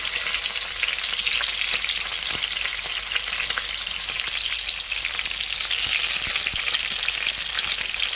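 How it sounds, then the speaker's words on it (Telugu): Curry leaves sizzle steadily in hot oil for sambar with drumstick pieces and a little dal, a dense, even crackling hiss close by with small pops scattered throughout and no voices. "కరివేపాకు వేస్తున్నానండి"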